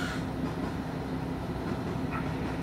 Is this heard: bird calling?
no